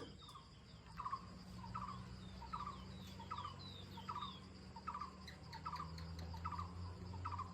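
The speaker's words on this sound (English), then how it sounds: "Listen to these birds." Turkeys gobble outdoors in a repeated series of calls roughly once a second, moderately distant, over a steady bed of insect and ambient noise.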